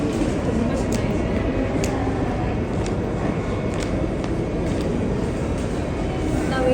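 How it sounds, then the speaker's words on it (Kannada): Continuous low rumble of a train at a station in Japan, a steady, loud mechanical drone with faint rail clatter and no clear break throughout. "ನಾವು ಈ ಟ್ರೈನ್ನ ನೋಡೋಕೆ ಬಂದು"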